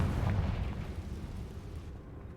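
A Confringo blasting spell in a wizarding video game produces a muffled, rumbling explosion that rolls out at a moderate level and fades gradually.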